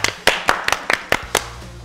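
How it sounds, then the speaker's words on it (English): Sparse hand claps from a very small group at a leadership recognition event, about seven distinct, evenly spaced claps over roughly two seconds, close and fairly crisp with no voices. "Give them a huge round of applause"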